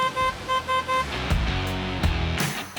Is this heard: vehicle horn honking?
yes